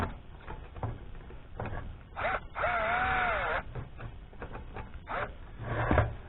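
A bolt being tightened on an outdoor furnace, with repeated scraping and rubbing strokes of a wrench, one longer squealing metallic turn in the middle, and a clunk near the end.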